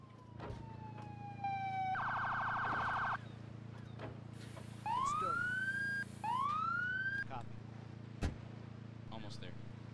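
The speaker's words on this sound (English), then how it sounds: "Okay, that's the ambulance." An ambulance siren in the Emergency 4 video game wails in rising sweeps and pulsing bursts, loud and close, layered over a steady engine hum with other brief game sounds in between.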